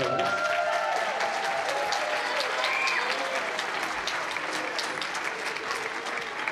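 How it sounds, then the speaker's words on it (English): An audience at a school band concert applauds the high school band, a dense and steady wash of clapping that fills the room and stays even throughout. "Give the high school another round of applause"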